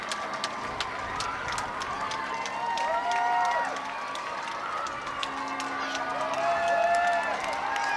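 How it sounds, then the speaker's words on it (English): A large crowd cheering and calling out for the King in Wales as horses arrive, a broad swelling roar with whistles and shouts, people talking close by over it. "A cheer going up from the crowd."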